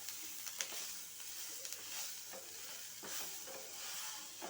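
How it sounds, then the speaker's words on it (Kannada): Chayote stir-frying in a pan gives a soft, continuous sizzle with a few faint scrapes of stirring. It is quiet and steady, without any voices. "ಒಂದು 5 ನಿಮಿಷ ಬೇಕಾಗುತ್ತೆ ಇದನ್ನ ಹುರಿಯೋಕ್ಕೆ."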